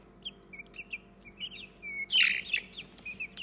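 Small chicks peep in high, short chirps, with a louder burst of clucking and squawking midway. The sounds are close and fairly faint, with no talking.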